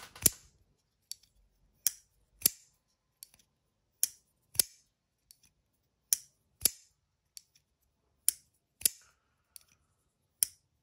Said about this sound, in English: it smacks out of there, and then it sucks it in with a nice click